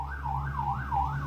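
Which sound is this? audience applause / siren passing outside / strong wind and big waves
siren passing outside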